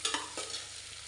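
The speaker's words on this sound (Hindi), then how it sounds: "ये प्याज को डाल करके अब इसे ब्राउन करेंगे," Onions frying in oil inside a pressure cooker: a steady broadband sizzle with a few sharp scraping stirs near the start, close and moderately loud, with no voices.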